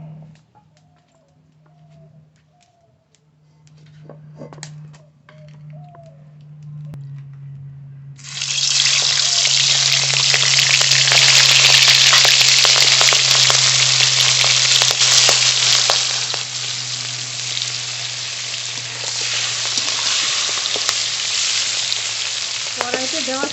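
Large prawns rubbed with salt and turmeric hit hot mustard oil in a wok, setting off a loud, sustained close sizzle after a quiet stretch of low hum.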